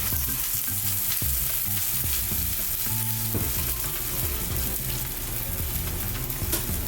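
Loud, continuous sizzling of mussels frying in a hot pan as they are stirred, with scraping and clattering of the utensil against the pan throughout.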